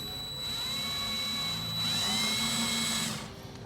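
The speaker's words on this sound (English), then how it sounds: "I'm doing my best to drill straight into the work" A cordless drill whines steadily as it bores into steel, its pitch shifting slightly as it bites, then winding down at the end.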